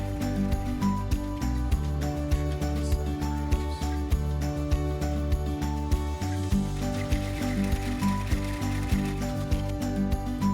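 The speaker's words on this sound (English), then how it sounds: "For step 5, we are going to sew the elastics into place." Embroidery sewing machine stitching elastic onto a fabric mask, a steady close mechanical whir with rapid rhythmic needle clatter and gear ticking, running continuously without speech.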